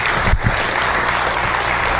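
After a keynote talk at the ANYCon security conference, the audience gives loud, steady applause. Many hands clap in a dense, continuous wash for a couple of seconds.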